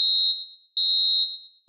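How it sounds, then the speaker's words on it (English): Fire evacuation alarm sounding in a facility, a piercing high electronic tone in two sustained pulses of roughly half a second each, with a fading tail after each pulse, loud and close with no voices. "Once an alarm has sounded"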